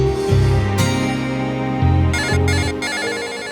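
A phone rings with a musical ringtone, tonal bursts repeating for several seconds, loud and close in an indoor TV drama scene.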